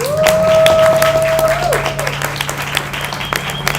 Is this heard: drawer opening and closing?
no